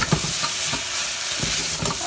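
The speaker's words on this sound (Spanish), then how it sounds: "Ok, que se fría, bien frita." Tomato sauce frying hard over high heat in a pot for Mexican noodle soup (sopa de fideo), a steady loud sizzle with periodic scraping stirs, no voices.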